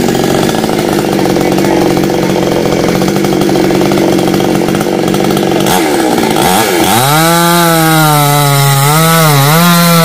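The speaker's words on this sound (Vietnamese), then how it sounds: "Chắc là bà của Hoa sẽ đứng trên hàng rào để cưa ra." A chainsaw cutting a large leaning mangrove apple tree trunk, running loud and close, its engine whining steadily, then revving and bogging as the pitch dips and rises while it cuts.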